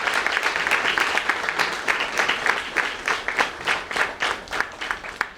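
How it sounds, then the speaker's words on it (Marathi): Audience applause after an interview talk on protecting children from cyber crime: dense, steady clapping from a crowd that holds strong throughout, then breaks into more distinct, separated claps toward the end. "खरंच जोरदार टाळ्या झाल्याच पाहिजे"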